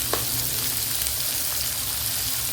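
Onion frying in a pan for ragi upma, a steady close hiss and sizzle of hot oil throughout, with no talking.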